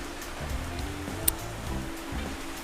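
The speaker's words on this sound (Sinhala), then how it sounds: "මේකට කියන්නේ නන්පේරියල් දියඇල්ල." Steady broadband rush of the Nanperiyal waterfall in Sri Lanka, running low in the dry season, a continuous moderate wash of falling water with a faint low rumble and one brief click.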